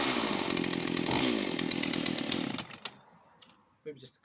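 A Stihl MS181C chainsaw with a brand-new spark plug runs loud and close at a raspy buzzing idle, then cuts out abruptly, leaving a few faint clicks and handling noises.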